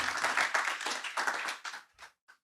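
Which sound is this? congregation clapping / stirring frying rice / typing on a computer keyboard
congregation clapping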